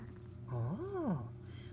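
A pet cat gives a single drawn-out meow that rises and falls in pitch, close and fairly clear over quiet room sound.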